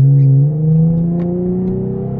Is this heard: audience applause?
no